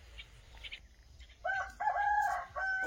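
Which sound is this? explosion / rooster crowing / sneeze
rooster crowing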